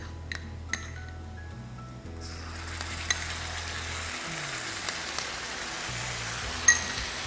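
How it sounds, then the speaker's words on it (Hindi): Garlic and ginger garlic paste fry in a pan for a Rajasthani panchkuta dish, making a steady close sizzle with a few light clinks of a utensil, and a low hum underneath early on; no one speaks. "अब ये गार्लिक जो है बढ़िया से भून लिया जाए, और गार्लिक का जो भुना फ्लेवर है उसके साथ साथ जिंजर गार्लिक पेस्ट को भी भून लिया जाएगा"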